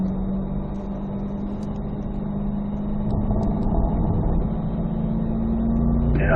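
Corvette Z06 engine on a track pulls hard and rising in pitch as speed builds before a shift, a steady close in-car roar with no talk.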